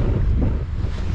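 Steady wind buffets the microphone outdoors during a meal, a continuous low roaring rush with no voices.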